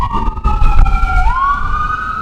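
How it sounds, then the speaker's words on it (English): An ambulance siren wails loudly and close, its warbling tone sliding lower as it passes quickly, over a rumble of road traffic. "This ambulance go by real quick."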